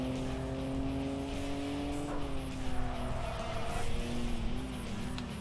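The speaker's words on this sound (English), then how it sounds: "You drift a police car." A police car drifts in a racing video game, its engine a sustained tonal drone that shifts pitch as it slides and revs, with faint tire squeal, loud and continuous with no talking.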